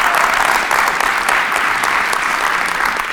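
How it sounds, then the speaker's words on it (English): Steady, dense applause from a college audience at an annual address, many hands clapping evenly and close for about three seconds with no voice over it. "Yeah, you can clap for that."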